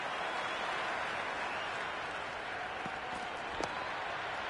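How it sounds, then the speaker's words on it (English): A crowd at a cricket match applauds and murmurs in a steady, distant wash of clapping and cheering that fills the whole stretch. "The crowd is electric right now."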